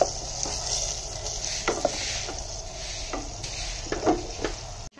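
Onion fries with ginger-garlic paste in a pan, a steady close sizzle under scattered scrapes and clinks as a spoon stirs, ending in a brief clatter.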